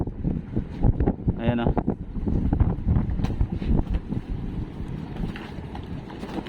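A strong northeast monsoon wind buffets a boat at sea, roaring steadily across the microphone under a motor's drone, while someone speaks briefly.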